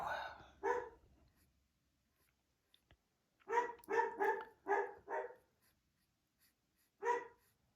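A dog barks indoors in a quiet house, a pair of sharp barks followed after a pause by a rapid run of five, then one more single bark, moderately close and alone.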